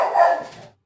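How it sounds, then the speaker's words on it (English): A pet dog gives a single loud, close bark indoors that fades quickly, with no talking. "I don't know if my dog's coming across on the audio, but he's barking at something."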